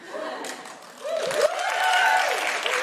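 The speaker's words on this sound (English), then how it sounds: "Don't applaud men for just coming through the door." A comedy show audience applauding a man, a brief burst of clapping from a seated crowd mixed with chuckles, rising and sustained over a few seconds, fairly close.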